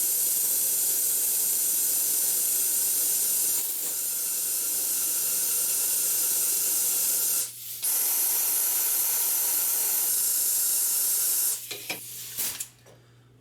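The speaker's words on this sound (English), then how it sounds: "So now let's spray some DPF cleaner in the DPF." An aerosol DPF cleaner is sprayed into the diesel particulate filter of a Dodge Sprinter in limp mode with high ash accumulation. A loud, steady hiss runs throughout, with a brief break midway and several short stops and restarts near the end.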